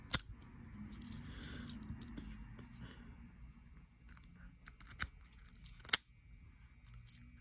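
Small metal keys click and rattle against a 40mm Bunker Hill Security padlock, with a few sharp bright ticks standing out against quiet handling noise nearby.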